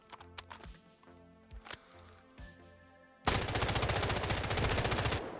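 Automatic gunfire from a rifle fitted with a laser in the Delta Force video game, a loud, rapid, evenly spaced burst lasting about two seconds after scattered clicks and metallic weapon-handling sounds.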